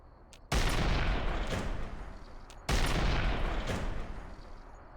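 Two heavy, booming gun blasts fire in the Fallout New Vegas video game, each loud with a long rumbling tail, spaced about two seconds apart, with no talking.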